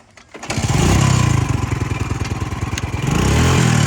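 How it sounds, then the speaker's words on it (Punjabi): A loud modified motorcycle engine, its silencers removed, starts and idles with a rough, rapid popping rhythm, revving slightly near the end; close and harsh, no talking. "ਮੋਡੀਫਾਈ ਕਰਾਇਆ ਮੋਟਰਸਾਈਕਲ"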